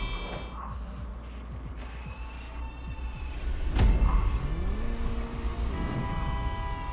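Car engine in a GTA V race, a steady drone that swells and revs up mid-clip, with skidding and impact noises, no talk.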